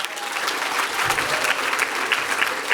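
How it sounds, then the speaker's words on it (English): Steady audience applause at a business networking talk: many hands clapping in a dense, even wash that carries on without a break. "So a bit of a round of applause."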